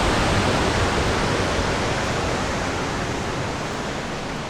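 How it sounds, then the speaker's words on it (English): Waterfall near Lake Bohinj, Slovenia, running with a heavy flow of water, a loud, dense, continuous roar that holds steady close by throughout. "I don't think I've seen this waterfall with so much water"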